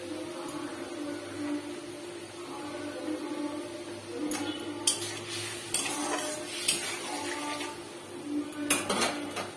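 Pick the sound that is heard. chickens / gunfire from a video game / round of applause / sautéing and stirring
sautéing and stirring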